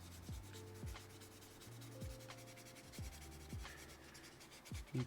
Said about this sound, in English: We got this piece I'm sanding